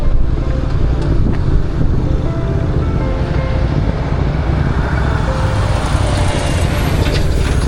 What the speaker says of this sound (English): Traffic out here can be nuts sometimes.